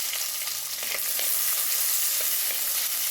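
Sliced shallots and garlic cloves sauté in hot oil in a pan, a steady close sizzle with light scraping from stirring, continuous and moderately loud with no voices.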